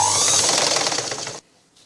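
A sewing machine runs steadily for just over a second, sewing a thin hem along the edge of a blouse belt piece, with a fast, even mechanical whir close by, then stops abruptly.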